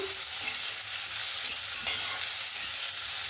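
Cubed potato sizzling with spices in hot oil while a spatula stirs it, an even frying hiss broken by a couple of faint scrapes and taps.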